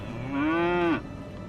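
A single drawn-out cow moo from the video game Surviving Aftermath, rising then holding steady for about half a second before cutting off, clear and close over a faint background hum.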